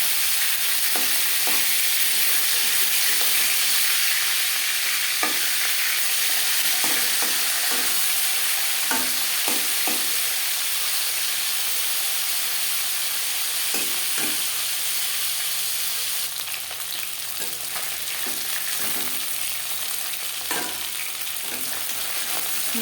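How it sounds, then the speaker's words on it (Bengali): An aar fish head fries in a pan of oil with a steady, close sizzle, while scattered crackles and scraping stir sounds break through the frying alone. "একটা সাইড ভাজা হয়ে গেলে অপর সাইডটা উল্টে দেবো।"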